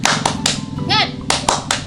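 Children at an online Sunday school session clap out the rhythmic "tepuk semangat" game, a few sharp claps in a patterned beat mixed with voices chanting over a continuous background.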